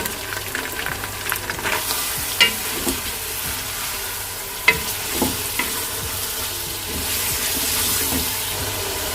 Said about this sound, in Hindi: गोश्त को मैंने अच्छी तरह 5 मिनट भून लिया है